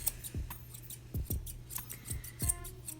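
Chunking shears snip through a small Yorkie's fur during grooming, giving several quiet, crisp cuts in an uneven rhythm, close and fairly soft, with no talking.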